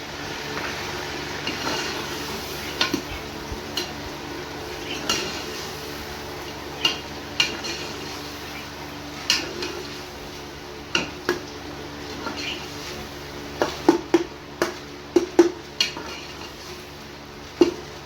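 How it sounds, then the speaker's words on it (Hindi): Tomatoes with ginger-garlic paste frying in a pot, with a steady low sizzle under repeated clinks and scrapes of a spoon stirring against the metal, the knocks growing busier toward the end. "टमाटरों के नरम होने तक हम इसको भूनेंगे"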